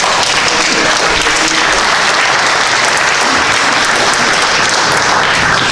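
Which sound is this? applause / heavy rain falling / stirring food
applause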